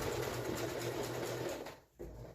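A sewing machine stitches a seam on fabric for a face mask with filter pocket and ties, a steady fast close whir that stops briefly near the end before restarting.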